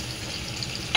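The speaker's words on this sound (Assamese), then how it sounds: "তাৰপিছতে নহৰু দিলোঁ" Garlic frying in hot oil right after ginger, a steady faint sizzle with a brief stirring scrape at the end.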